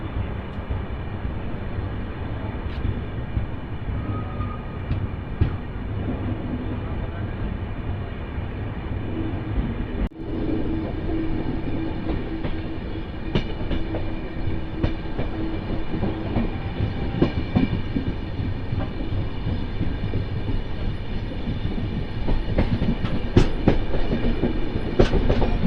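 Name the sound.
train running after departing Kannur station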